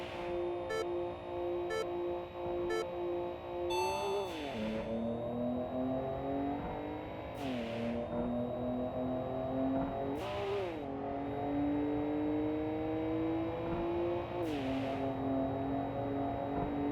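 Car engine in the racing game Import Tuner Challenge revving steadily upward through the gears, with a short drop in pitch at each of four shifts, sustained and close, with faint beeping at the start.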